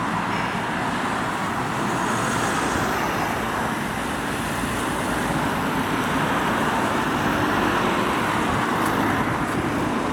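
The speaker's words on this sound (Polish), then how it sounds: "Jedzie autobus właśnie." A city bus passing a stop on a busy road, a loud, continuous rumble and roar of traffic with no clear start or end and no voices.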